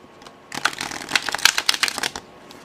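Tarot cards shuffled horizontally by hand, a quick close burst of crisp riffling flicks lasting about a second and a half after a short pause, with no voice.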